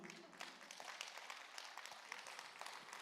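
A church congregation breaks into scattered, fairly faint applause during a sermon, a brief patter of clapping mixed with murmuring voices.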